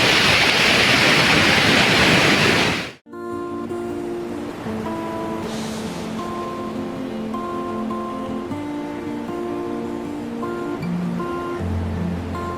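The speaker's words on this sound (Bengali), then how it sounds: "জল বেশি, বেশি ধাক্কা দিচ্ছে পাড়ে" On a deserted, unpolluted sea beach, waves crash and wash onto the shore as a loud, roaring surge. After a few seconds it cuts abruptly to a quieter, steadier sound with sustained tones.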